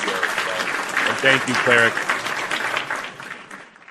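A live online wrestling show crowd or host gives a round of applause, steady dense clapping running throughout while someone speaks over it, fading toward the end.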